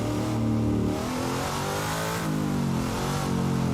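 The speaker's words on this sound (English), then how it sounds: "Some of those revs is too high." A racing car engine in the video game Assetto Corsa revs hard and steadily leaving the pit, the pitch climbing and dropping as gears shift, loud and continuous throughout.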